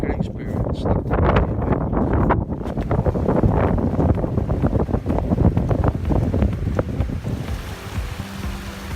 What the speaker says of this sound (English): Apologies for the noise of the wind,